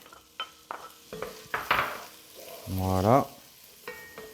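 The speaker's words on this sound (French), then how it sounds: "Voilà, mon beurre est fondu. Je rajoute ma cébette. Je rajoute mes carottes." Spring onion and carrots drop into melted butter in a pan, giving a short burst of sizzling among a few sharp utensil clinks and stirring taps. A voice speaks briefly near the end.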